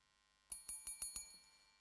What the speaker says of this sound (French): ma sonnette ne fait pas assez de bruit.